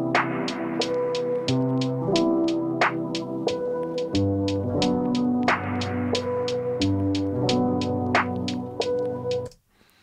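Full electronic track from an Ableton Live 11 session where the snare drum gets a big reverb tail on every other hit, the second snare choking the reverb; regular sharp snare strikes over sustained chords and bass, cutting off abruptly near the end.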